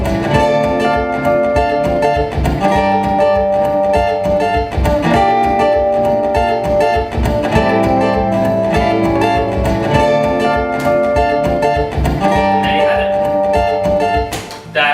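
Layered guitar parts on a loop pedal build a full, steady looped arrangement, with repeating arpeggiated chords and melodic lines stacked over a rhythmic pulse for the whole stretch.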